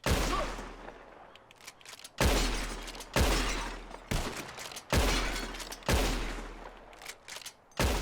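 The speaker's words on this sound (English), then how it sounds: "Whoever shoots more of these bottles wins. Just draw your gun and aim when you're ready." Gunshots and glass bottles shattering in the video game Red Dead Redemption 2, a series of about six loud, sharp reports, each followed by a decaying ring of breaking glass, spaced a second or so apart.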